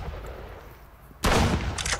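Gunshots in the Roblox game Arsenal: after a quiet stretch, a sudden loud burst of gunfire erupts and keeps going in close rapid shots until the end.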